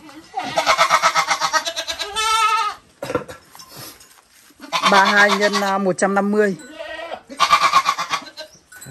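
Goats bleat loudly and repeatedly at close range at a village livestock sale, with wavering cries in several bursts while people talk nearby.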